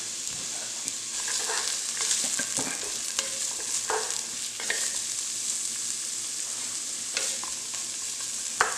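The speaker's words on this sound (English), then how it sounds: "You saute them off just a little bit, get them a little soft." Chopped celery, onions and carrots sauté in a soup pot for white bean soup, giving a steady close sizzle broken by the scrape and clack of a spoon stirring, with no talk.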